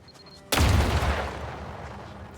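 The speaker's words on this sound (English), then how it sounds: "Okay, we didn't get caught by that explosion" In the video game The Outer Worlds 2, a loud, close explosion booms suddenly and rolls into a long rumbling decay with crackling debris, after a brief quiet lead-in.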